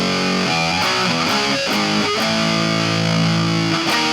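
Electric guitar plays a riff slowly with a distorted tone, loud and alone, as a sequence of separate chords and notes with brief gaps between changes.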